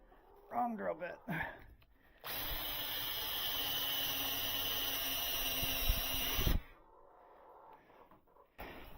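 A power drill bores into wood while building a chicken coop roost, a steady loud whine running about four seconds, with speech before and after it.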